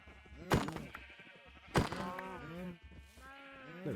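Sheep in the Minecraft video game bleat several times in quick succession, with wavering, overlapping calls and two sharp thunks between them.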